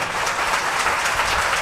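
A worship-meeting congregation clapping loudly together, a dense, even wash of applause that holds steady throughout without any talking.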